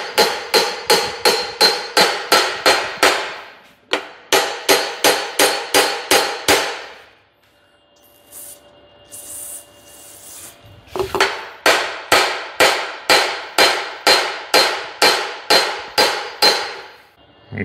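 A hammer taps on an aluminum block in a workshop, landing sharp metallic blows in fast, even runs of about a dozen strikes each. Three runs are separated by pauses, close and loud with no talk.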